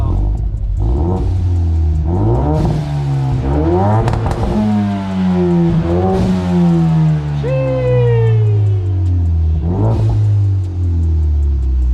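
A 2020 Ford Mustang EcoBoost with a Circuit Concept catback exhaust revs hard toward redline, the engine note climbing and falling in repeated loud sweeps with a raspy drone, heard up close.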